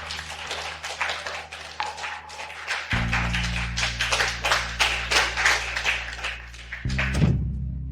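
Enthusiastic applause from an auction audience as the organiser walks on stage, steady dense clapping that runs for several seconds with low thumps underneath, no speech over it.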